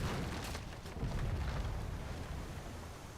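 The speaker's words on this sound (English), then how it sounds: "maybe we can just obliterate her with one broadside from the Richmond" The ironclad Richmond fires a naval broadside in Victory at Sea: Ironclad, a deep booming blast. A rolling rumble follows and fades over about three seconds.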